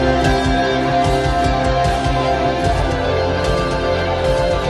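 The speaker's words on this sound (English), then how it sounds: "I wanted the guitar solo to kick in" A full rock mix with driving bass and drums underneath a sustained, soaring electric guitar solo, loud and continuous throughout.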